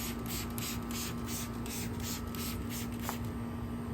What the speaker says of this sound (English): So I would spray the channel with the soapy water.